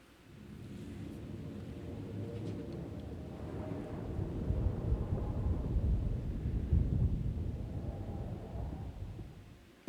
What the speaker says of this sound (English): It sounds like distant thunder.